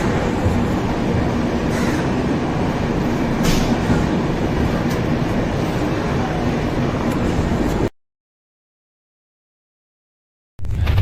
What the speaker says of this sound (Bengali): ট্রেন পুরো নিজের সঠিক টাইমে ছেড়ে দিয়েছে